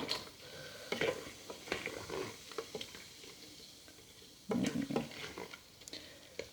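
Beer sauce for carbonade flamande stirred in a pot, faint irregular scrapes and clinks of a spoon against the pot with a light bubbling patter beneath, quiet and close.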